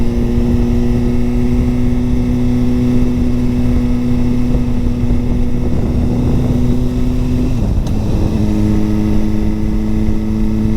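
A Suzuki GSX-R1000 sport bike is ridden on the road. Its engine drones loud, close and steady, then the pitch drops sharply at a gear change near the end. Nobody talks over it.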